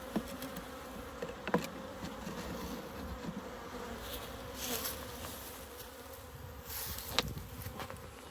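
Packaged honeybees being installed into a hive make a continuous close buzzing hum, with louder passes as individual bees fly near and occasional faint knocks from handling the equipment.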